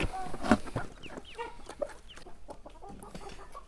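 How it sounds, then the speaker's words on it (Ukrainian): A young rooster of the Barbezieux breed clucking close by, a series of short throaty calls and chirps with other birds faintly in the background. "Молодий півник, але ну він височезний і величезний"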